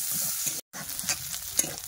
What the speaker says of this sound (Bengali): পেঁয়াজটাকে কিন্তু ভাজা ভাজা হয়েছে